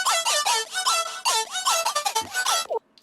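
Electronic dance music lead synth played clean without bit crushing, a squeaky, bright melodic line repeating in quick rhythmic phrases for about three seconds, then cutting off.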